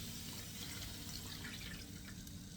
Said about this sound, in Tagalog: Pag luto na po yung ricado, magdadagdag tayo ng tubig.